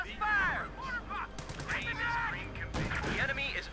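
MG42 machine gun fire in the video game Company of Heroes 2 comes as rapid crackling bursts amid other battle noise, with a commentator talking over it.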